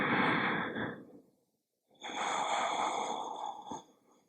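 Two long, deep breaths during a slow yoga flow, close and audible, with a short silent pause between the first exhale and the second breath; no talking.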